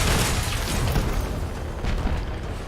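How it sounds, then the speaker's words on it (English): Artillery rounds blast a vehicle in the combat game Crossout, a dense, loud rumbling barrage of booming explosions that runs continuously without any talk. "I just straight took those artillery rounds to the face"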